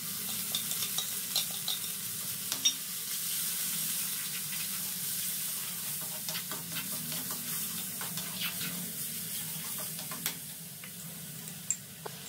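Homemade green chicken masala paste frying in a pan and being stirred, a steady sizzle with scraping stir strokes and small ticks throughout, close and even.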